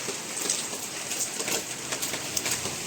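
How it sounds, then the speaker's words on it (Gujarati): Light drizzle falls steadily, a soft continuous hiss scattered with faint pattering drops. "ઝીણો ઝીણો વરસાદ ચાલુ છે"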